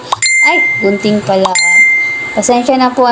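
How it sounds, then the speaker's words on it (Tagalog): A phone plays a bright, ringing message alert twice while someone talks nearby. Each alert is a short bell-like chime followed by a held tone, and her voice runs between and under the tones. "Naririnig niyo po yung tunog ng mga message sa akin."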